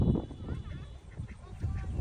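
A duck quacks and honks nearby during a village Eid duck-catching game played by five girls, the calls rough and repeated, with faint voices in the background.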